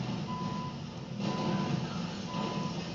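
Truck reversing beeps in GTA Online, three evenly spaced electronic tones repeating over a steady engine rumble and game background noise, no talking.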